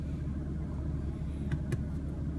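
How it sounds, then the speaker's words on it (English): A 2017 BMW M3/M4 engine rumbles at a low, steady, fairly quiet level, with a couple of brief sharper clicks near the end and no voices. "and here's the engine response."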